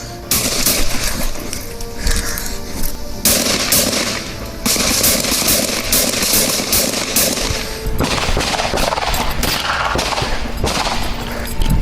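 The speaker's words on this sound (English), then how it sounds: "Shots fired still." Rapid bursts of gunfire during a police shootout recorded from a dashcam, dense repeated shots with a few short pauses, loud and sustained over road and outdoor background noise.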